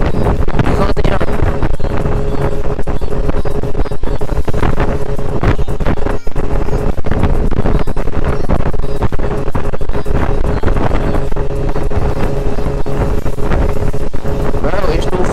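Heavy wind buffeting a microphone while riding a scooter in cold weather, a loud constant roar and rumble throughout the whole stretch.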